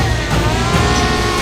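A drone camera flying overhead gives off a steady, loud motor whine with a tight buzzing hum that holds evenly without pause.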